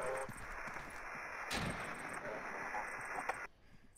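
Gunfire and heavy blasts from a DeadSide survival shooter match, a dense, continuous barrage of loud booms and shots with a sharp crack near the middle, ending abruptly into quieter ambience.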